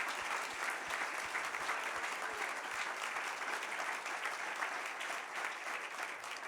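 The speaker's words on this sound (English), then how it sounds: "Let's give them a big round of applause." Big round of audience applause for musicians and performers at a holiday extravaganza, a dense, steady wash of clapping throughout, heard at moderate distance.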